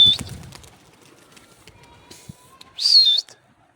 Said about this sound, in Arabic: هسه طلعتها طيور راح اطيرها